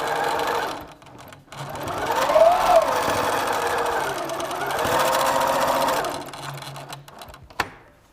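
A sewing machine stitches strips of a quilt together, a steady close mechanical whir that rises and falls in speed over several seconds before stopping with a sharp click.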